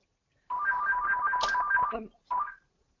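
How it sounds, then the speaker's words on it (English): A mobile phone's melodic ringtone chimes for about a second and a half during an online webinar, cuts off, then starts again briefly before stopping; clear and close with no talk over it. "is that your phone ringing?"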